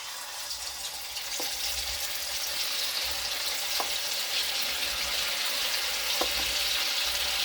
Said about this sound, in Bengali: বড়াটা ততক্ষণ ওখানে ভাজা হোক